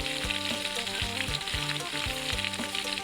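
Pork and fish, including raw fish, sizzle steadily in hot oil, a dense continuous frying hiss with crackling pops close by, loud and without speech.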